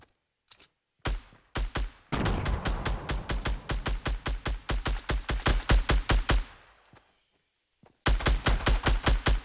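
Rapid automatic gunfire from a Fortnite Battle Royale match, loud and close, with short bursts at the start, a long sustained string of rhythmic shots, a brief pause, then another fast burst at the end.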